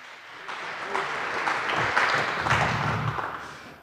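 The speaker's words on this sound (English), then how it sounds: "give a warm applause to Nick and Albert" An audience applauds to welcome two speakers onto the stage at a talk at the SHA2017 hacker camp. The clapping is dense and steady, swelling slightly, then easing off over a few seconds.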